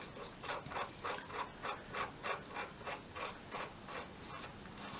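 A collared nut on a BSA 350 motorcycle part is tightened with a spanner, giving a faint, regular ratcheting rub repeated roughly every third of a second, close and quiet with no talk.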